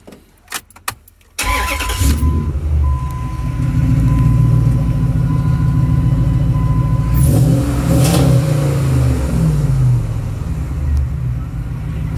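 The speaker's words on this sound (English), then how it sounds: "I will show you guys how it sounds right now." A 2003 Ram 1500 pickup with a swapped 5.7 engine starts up after a few clicks, then runs steadily, already warm rather than cold, with a brief rev near the end, loud and close, no talking.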